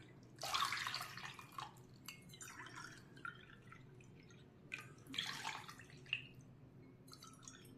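Water poured from a measuring cup into a pan while making sabudana papdi, with two splashy bursts of pouring separated by quieter dripping and trickling, close and fairly soft.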